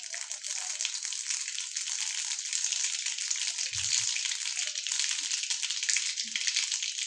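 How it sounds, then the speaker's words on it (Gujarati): Mustard seeds spluttering in hot oil at the start of a besan capsicum shaak: a steady, bright sizzle that fills the whole stretch, with a couple of soft low pops partway through. "આ રહીને થોડીક આપણે ફૂટવા દેશું"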